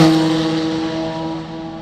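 A Corvette Z06 GT3.R race car with a 5.5-liter dual overhead cam V8 sweeps past at speed, a loud, tonal engine note that starts close and fades quickly as it pulls away.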